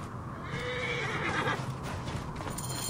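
A horse in Assassin's Creed Origins whinnies amid clopping hooves, a fairly loud, busy mix with continuous ambient game noise and no talking.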